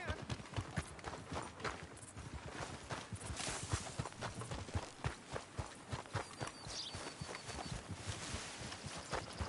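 Hooves of a ridden horse clip-clop steadily in a video game hunting scene, a continuous walking rhythm of fairly quiet, even hoof beats with game background sound throughout.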